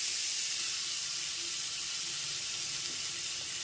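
Ginger garlic paste, two tablespoons, dropped into onions already fried red in a pan for Bengali masoor dal khichuri, giving a steady, even hiss and sizzle throughout, close and uninterrupted, with no voices.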